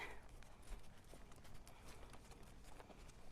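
Horse hooves trotting, a faint, quick, steady clip-clop of footfalls over soft ground, heard at a distance with no talking.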